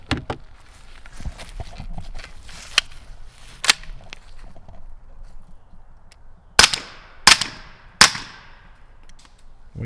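A BM15 pistol-caliber 9mm carbine fires 150 grain synthetic subsonic rounds, giving three sharp, loud reports about a second apart, each with a short trailing echo, after fainter earlier clicks of the action and shuffling.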